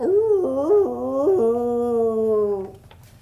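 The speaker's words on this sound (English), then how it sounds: "Instead, he howled very loudly." A dog howls in a long, wavering tone that rises and dips in a few pulses, then holds a sustained falling note before fading out.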